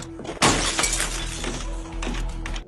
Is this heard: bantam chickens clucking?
no